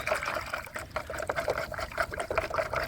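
A couple ounces of microbe mixture is stirred into a jug of water, giving soft sloshing and trickling splashes in quick irregular bursts, close by and fairly quiet.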